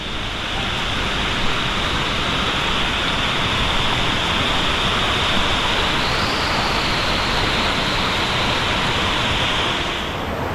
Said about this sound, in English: There it is, it's the waterfall, obviously.